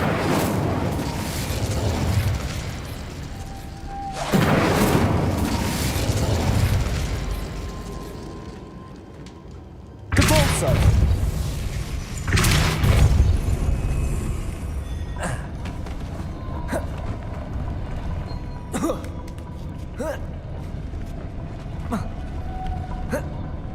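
Incendio fire spells blast and whoosh in Hogwarts Legacy, several bursts of roaring flame with sharp onsets, scattered among mechanical creaks and clicks. Spoken voices are heard at points.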